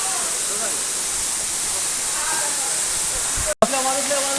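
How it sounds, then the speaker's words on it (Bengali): Natural mountain waterfall in the hills of Sajek Valley, a loud, even roar of falling water from start to finish, with faint voices underneath and a brief dropout near the end. "দেখেন প্রাকৃতিক ঝর্ণা আসলে অনেক সুন্দর"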